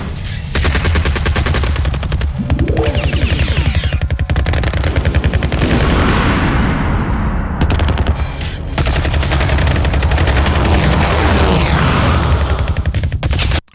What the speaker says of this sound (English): For the gunfire is like the really obvious one